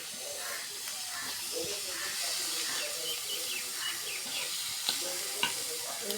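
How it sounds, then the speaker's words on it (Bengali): Sona pata sea fish being fried for chorchori and a mashed fish-head bhorta, giving a steady soft sizzle and hiss in a pan with faint stirring clicks, low and continuous. "ভাজে নিব"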